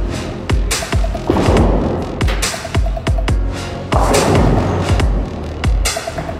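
A bowling ball thrown down the lane toward the pins: a heavy thud on release, then a loud rolling rumble with scattered knocks, repeated across a couple of throws.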